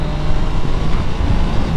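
Triumph Tiger 660 Sport motorcycle engine roaring loud and close under heavy wind rush, with a brief rev bump as the auto-blipper fires on a gear change.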